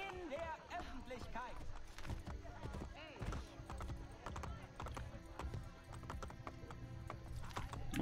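Rapid rhythmic hoofbeats of a galloping horse in Assassin's Creed: Brotherhood, with a whinny, under a person talking over the top.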